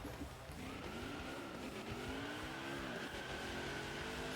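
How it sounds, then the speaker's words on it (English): Revving engine and squealing, skidding tires from a truck burnout in the NASCAR Heat 4 racing game, a sustained rising whine over rough tire noise, fairly quiet with no talk. "Let's do a burnout."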